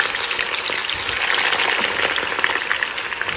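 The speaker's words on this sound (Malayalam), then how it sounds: "എടുത്ത് വെച്ചിരുന്ന മത്തങ്ങ അരിഞ്ഞത് അതും കൂടി നെയ്ക്കാത്തങ്ങ് വറുത്തെടുക്കുകയാണ്." Chopped pumpkin frying in ghee gives a steady, dense sizzle with a faint bubbling crackle. It holds at an even loudness throughout, close by, and no one speaks.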